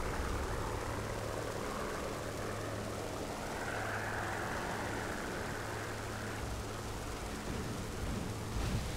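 An enemy aircraft approaches in the War Thunder combat game, a continuous droning engine roar that swells slightly in the middle, heard alone without speech.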